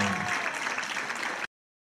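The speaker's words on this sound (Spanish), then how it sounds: "A ver ese aplauso para Elena" Audience applause at a Christmas gala, dense clapping with a voice briefly over it at the start, then cutting off abruptly to silence near the end.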